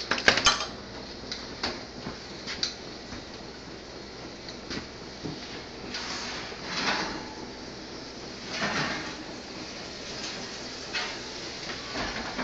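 In a kitchen, metal tongs lift sausages out of a pan with light clinks and scrapes against the metal, scattered quiet knocks over a low sizzle.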